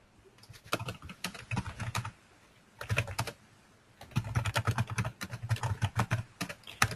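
Keystrokes clatter on a computer keyboard while commands are entered into a Unix/Linux shell, coming in quick close bursts separated by short pauses and heard on their own with no talking.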